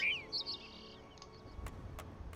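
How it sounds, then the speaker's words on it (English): Stratogale in the Lego Incredibles video game gives a few quick, bright whistled bird chirps at the start, followed by faint clicks and soft game background noise. "She can whistle and do bird calls."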